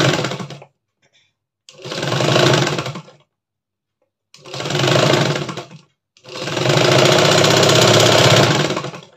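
Sewing machine stitching fabric, running in three loud, close bursts of rapid mechanical whirring with short silent gaps between them, the last burst the longest.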